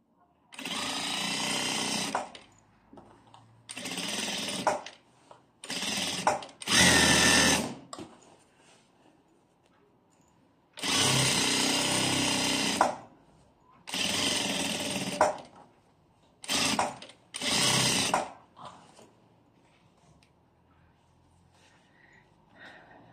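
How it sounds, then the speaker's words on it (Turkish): Sewing machine stitching a kimono sleeve seam, running in a series of loud, close bursts of rapid needle chatter, some long and some short, separated by quiet pauses. "Şimdi buradan yavaş yavaş dikişi geçiriyorum."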